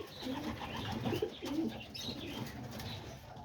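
White pigeons in a pen giving soft, low cooing murmurs over a steady background hiss, faint and continuous, with the occasional brief flutter.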